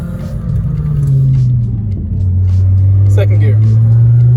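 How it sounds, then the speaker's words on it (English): Steady low engine drone and road rumble inside a moving Audi 90 Quattro with a broken sunroof, a continuous loud cabin hum that dips and rises around a gear change, with faint rattles and wind noise above it. "let's enjoy the sound of my broken sunroof"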